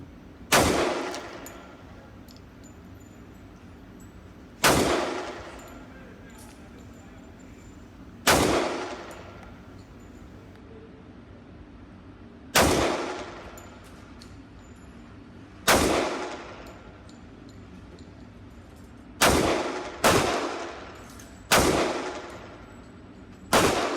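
Gunshots from a handgun fired outdoors, loud sharp reports spaced several seconds apart, each trailing into a long echoing decay, with a quicker cluster of three shots toward the end.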